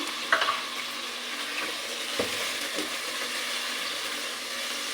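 Whole tomato and green chillies drop into a hot pan of karela dal, a steady soft sizzle with a few brief clunks and stirring scrapes, no speech over it.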